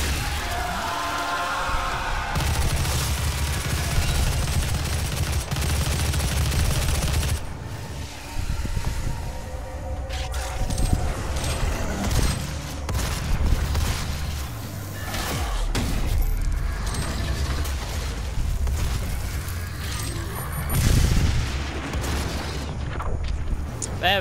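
In the video game DOOM, a rocket launcher fires repeatedly, each shot a heavy boom or blast within dense, continuous gameplay noise.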